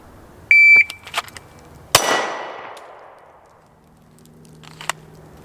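A single sharp, loud pistol shot from a Springfield Hellcat Pro drawn from concealment at about 7 yards on a range, ringing out with a long decaying tail after an electronic beep and small clanks.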